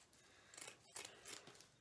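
Scissors snip off the small ends of a pine garland being decorated for Christmas, three or four quick, crisp cuts close by with brief pauses between them.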